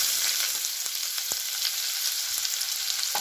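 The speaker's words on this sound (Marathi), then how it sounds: "ते टाकून घेते मोहरी, थोडंसं जिरं टाकते, थोडासा कांदा टाकते" Mustard seeds, cumin and chopped onion frying in hot oil for vada pav filling, a steady loud sizzle throughout with a few sharp crackles and pops from the seeds, no talking.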